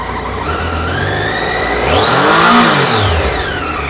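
A small sport motorcycle engine, a two-stroke, revs up sharply, its pitch climbing and then falling back to idle, loud and close, with no voices.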